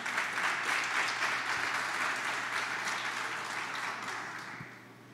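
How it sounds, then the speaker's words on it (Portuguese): A church congregation applauds during a Portuguese-language worship service, a full, even wash of clapping that holds steady and then gradually fades toward the end. "Dá um aplauso ao Senhor aí"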